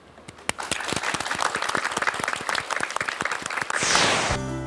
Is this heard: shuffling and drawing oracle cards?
no